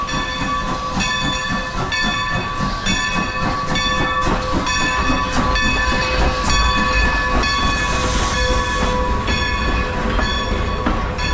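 A steam train at the Strasburg Railroad hisses and rumbles steadily, with a sustained tonal whine running throughout, close and loud with no talking.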